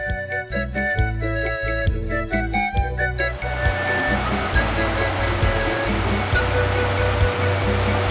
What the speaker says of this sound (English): There we are, right next to a roaring river.